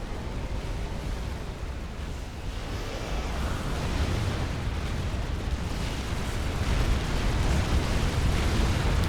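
Explosions from the video game Supreme Commander: Forged Alliance form a dense, continuous rumble of blasts and booms that stays loud and thick throughout.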